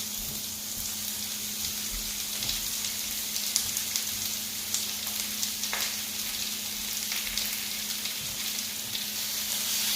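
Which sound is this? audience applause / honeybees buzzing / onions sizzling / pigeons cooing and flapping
onions sizzling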